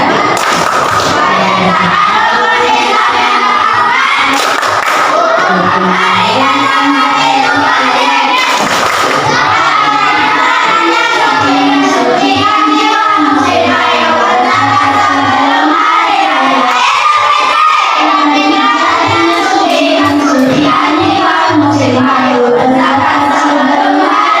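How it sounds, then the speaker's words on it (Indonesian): Indoor audience at an Islamic education teacher-training session in Pontianak, a crowd of adults and children cheering, shouting and clapping together in a loud, continuous wash of noise that stays steady throughout. "Tepuk tangan."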